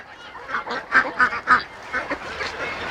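Several geese honk nearby in a quick run of loud calls, with quieter honks following against a noisy outdoor background.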